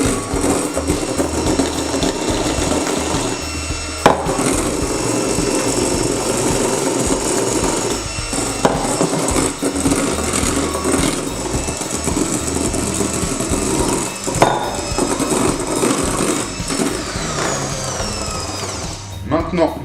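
An electric mixer whips egg whites with sugar into a firm meringue for macarons, a steady, close motor whir running unbroken for about twenty seconds with slight shifts in pitch and faint clatter.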